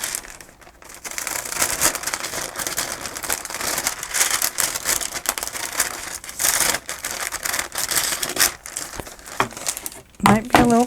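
Scissors cut through paper for a journal sleeve, making steady crinkling, rustling snips up close, while someone talks at times over the work.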